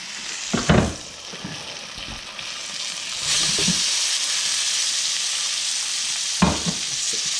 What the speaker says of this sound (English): now that our butter's melted, we're going to go ahead and add our last 2 pork chops